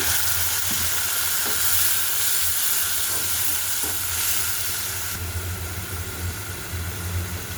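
Water hitting a hot pan of fried onions and fish, a loud steady sizzle with occasional soft stirring knocks, easing slightly toward the end.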